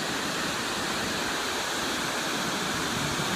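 Waterfall at the top of Taughannock gorge in Taughannock State Park near Ithaca, New York, a dense continuous rushing roar of falling water, loud and steady with no voices.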